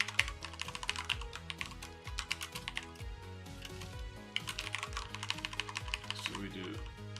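Code being typed on a computer keyboard during a programming session, with dense, rapid key clicks in bursts throughout, layered over a steady musical background.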